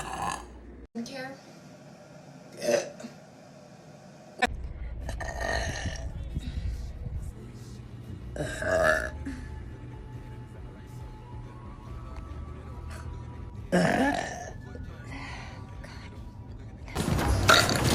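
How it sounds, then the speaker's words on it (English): Loud burps from a young woman, several separate belches spread across the span at irregular intervals, close and prominent over quieter background sounds. "I burp very loud."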